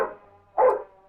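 A dog in a film gives two short barks spaced about half a second apart, moderately close and clear over an otherwise quiet background.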